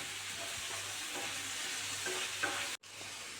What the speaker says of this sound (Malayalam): തക്കാളിയും സവാളയെല്ലാം വഴണ്ടി വരുന്നുണ്ട്